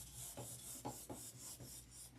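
Rhythmic hand sanding of a surface with fine-grit paper, about eight even back-and-forth rasping strokes, close but quiet, with no talking.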